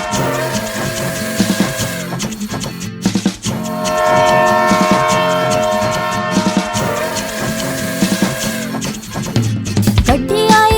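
A train sound effect in a children's song about a train, with rhythmic chugging and repeated bright whistle toots over busy musical backing, loud and continuous throughout.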